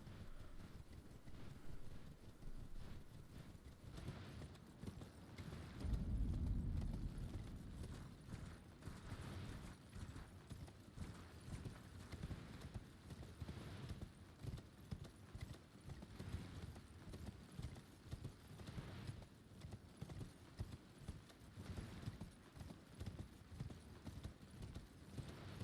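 Steady clip-clop of a horse's hooves galloping over open ground in Elden Ring, a continuous quick rhythm at moderate level with no talking.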